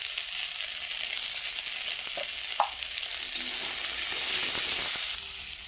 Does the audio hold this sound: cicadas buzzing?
no